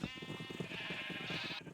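A Minecraft sheep gives one drawn-out, wavering bleat, close and fairly quiet, with nothing else around it.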